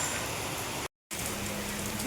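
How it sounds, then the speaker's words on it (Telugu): Heavy evening rain gives a soft, even hiss of drops on surfaces that continues steadily, broken by a momentary gap of silence. "వర్షం పడుతుంది."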